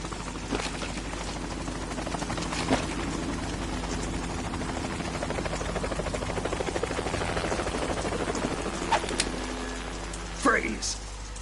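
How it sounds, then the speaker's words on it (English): A helicopter drones continuously in Metal Gear Solid, a loud rotor hum and whir filling the scene with a few sharp clanks and bursts layered over it. "You will be on the helicopter out of here now."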